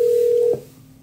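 A single steady telephone keypad tone from a call-recording setup holds for about half a second, then cuts off, leaving a faint low line hum.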